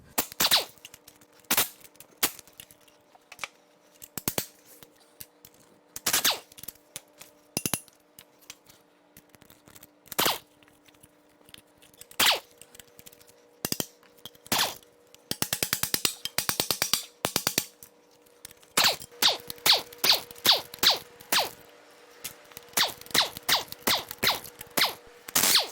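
Hand tools work loose the motor mount brackets on a Dodge Viper V10 engine, giving sharp, close metallic clicks and ratcheting bursts in irregular clusters, busier toward the end.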